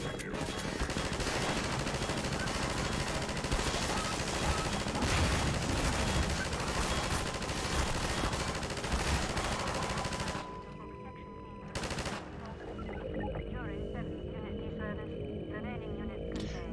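Automated turrets in Half-Life 2 fire long, dense bursts of rapid machine-gun fire for about ten seconds. The barrage then cuts to quieter game ambience with one short loud burst.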